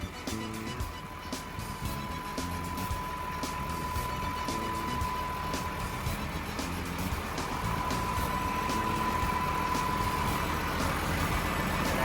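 The diesel engine of a TCM L27J wheel loader idles smoothly nearby in a steady low rumble with a faint constant whine and light ticking.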